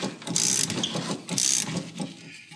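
A ratcheting auto glass cut-out tool cutting through a windshield urethane, making two loud, close bursts of rapid mechanical clicking and grinding with short pauses between strokes.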